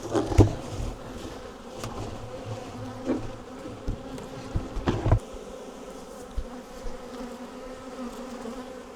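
Honey bees buzzing around a large backyard hive stacked with honey supers, a dense continuous drone close by with occasional louder bumps and knocks.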